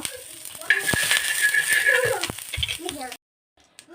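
Butter and ghee melting and sizzling on a tawa over a medium gas flame, a close crackling hiss with a few sharp clicks and clatters, ending abruptly in near silence.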